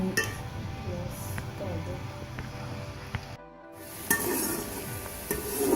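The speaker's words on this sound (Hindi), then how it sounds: "जब ये प्याज फ्राई हो जाएगा" Onions sizzling in a pan while potato and fenugreek sabzi is cooked, a steady soft hiss with occasional clinks of a stirring spoon against metal and a brief moment of quiet partway through.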